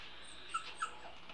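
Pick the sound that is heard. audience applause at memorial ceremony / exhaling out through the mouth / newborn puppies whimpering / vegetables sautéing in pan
newborn puppies whimpering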